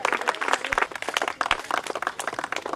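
An audience applauds, a dense patter of many hands clapping continuously at a moderate distance.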